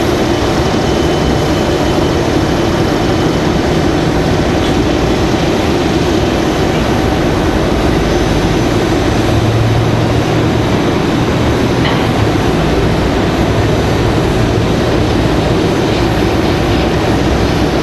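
Airliners at Raleigh-Durham airport, with a United jet on the runway and a JetBlue jet waiting, give a loud, continuous engine roar mixed with heavy wind rumble that holds steady throughout.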